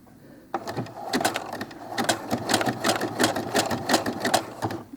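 A sewing machine runs a 3-step zigzag stitch across Velcro, a close rapid rattling chatter of needle strokes that starts abruptly and keeps going steadily, with no talk.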